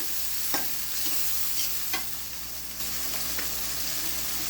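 Vegetables and shrimp frying in a pan, with a steady close sizzle throughout and a few scraping stirs of a spatula breaking through at irregular intervals, with no talking.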